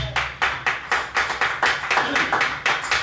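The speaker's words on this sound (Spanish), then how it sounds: "Dale un aplauso a la palabra de Jesús." Rhythmic hand clapping from a small church congregation applauding the word of Jesus, a dozen or so sharp, evenly spaced claps in quick succession, fairly close and steady throughout.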